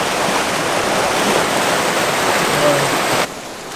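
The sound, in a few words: water flowing through creek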